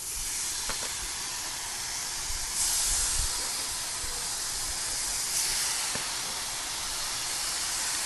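Steady, loud sizzling hiss of seasoned pork chops frying in oil on a hot Blackstone griddle, broad and unbroken, with a few faint clicks.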